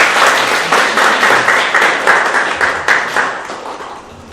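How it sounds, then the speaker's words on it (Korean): A crowd at an academic society conference claps loudly to welcome a keynote speaker, dense steady applause with rhythmic swells that gradually fades over several seconds, no talking over it. "큰 박수로 모시겠습니다."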